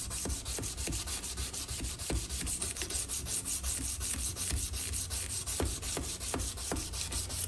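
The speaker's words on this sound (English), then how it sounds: "Got some really deep scratches that I am going to try to sand out" Sandpaper rubs steadily over an old German knife blade to work out deep scratches, a continuous close scraping with repeated strokes and no talking.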